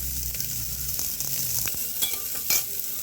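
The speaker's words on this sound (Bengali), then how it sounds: "সব হালকা হালকা ভাজতে হবে।" Vegetables fry lightly in oil for a chicken stew, a continuous close sizzle with scraping stirs and a few sharper clicks of a utensil against the pan, with no talking.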